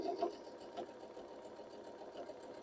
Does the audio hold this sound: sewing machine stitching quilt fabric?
yes